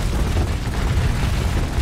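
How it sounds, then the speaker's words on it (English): Explosions in the space combat game Starsector make a dense, continuous roaring rumble, loud and heavy in the low end, with no voice over it. "Explosions can sometimes be a bit aggressive."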